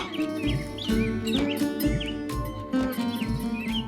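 Pet parrot chirping indoors during a Hindi TV serial scene, repeated bright tweets and quick chirps over a layered background of sustained musical tones and low thumping pulses.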